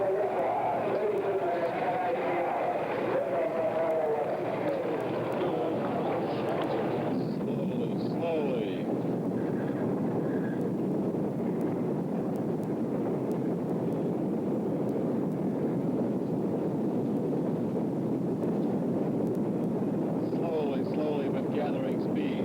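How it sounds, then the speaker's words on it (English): The Apollo 11 Saturn V rocket lifting off, a deep, continuous, rumbling roar that swells and persists for over twenty seconds, with voices talking over it. "the Saturn V thundered into life"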